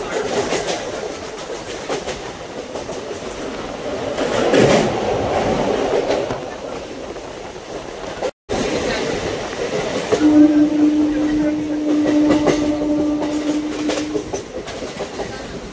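Local train running from Howrah to Bandel, a steady rolling rumble with rail clatter throughout, a brief dropout midway, and a sustained tonal hum or horn-like tone later on, with faint voices in the carriage.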